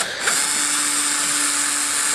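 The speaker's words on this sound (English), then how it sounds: "So the last step now is just to drill the PVC pipe onto the frame of the rail" Power drill driving through PVC pipe into a rail frame, a steady high-pitched whirring grind that starts abruptly and holds loud and close for about two seconds, with no talk.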